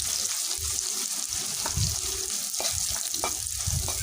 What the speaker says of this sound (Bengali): আরেকটা পাতিল বসিয়ে দিয়ে ওটার মধ্যে তেল দিয়ে পেঁয়াজ কুচি দিয়ে দিলাম পেঁয়াজ কুচিগুলোকে ভেজে নিব হালকা কিছুক্ষণ